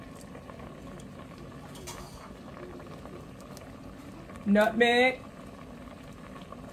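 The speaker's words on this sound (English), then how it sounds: "I have 2 large cans of sliced peaches cooking in heavy syrup, drained." Canned sliced peaches in heavy syrup bubbling on the stove, a quiet steady simmer running throughout, with a short spoken phrase over it near the end.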